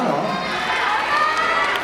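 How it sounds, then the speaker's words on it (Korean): Audience at a children's recital cheering and shouting in a loud, continuous wash of crowd noise, with voices mixed throughout. "이런 함성 좋아요"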